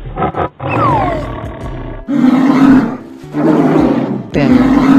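A tiger roaring loudly and close, three or four deep, rumbling roars in a row, each separated by a short gap, with no talk over them.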